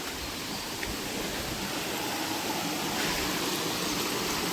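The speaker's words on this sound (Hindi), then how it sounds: "मुझे लगता है एक झरना इधर से गिरता, मैं वहीं जा रहा हूँ उस झरने के पास" A forest waterfall gives a steady, broad rushing roar of falling water. It stays constant and fairly close the whole time, with no voices.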